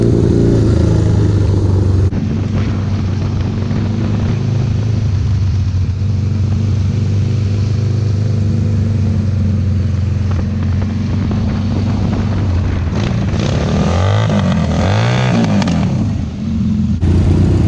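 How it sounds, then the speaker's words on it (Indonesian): A motorcycle engine running rough from a dirty carburetor drones steadily up close, with wind buffeting the microphone throughout. No one speaks. "nggak enak banget motor gua. Kenapa ya? Kayaknya karbunya kotor."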